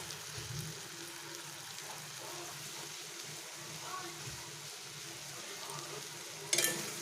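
Lentils fry in a pan with a little salt and are turned with a spoon, making a faint, steady low sizzle with soft scraping and a brief sharp clink near the end.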